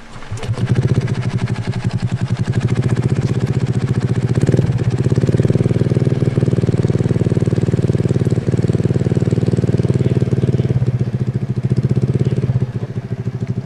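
A modified Honda Scoopy 130cc scooter engine starts and settles into a loud, close, steady idle with a rapid, buzzy putter that holds throughout, with a brief blip of revs partway through.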